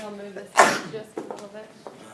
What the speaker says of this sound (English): It's a sneeze.